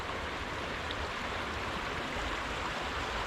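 Brandywine Falls creek at Cuyahoga Valley National Park, Ohio, rushes steadily over rocks as a close, dense broadband wash that stays constant with no talk throughout.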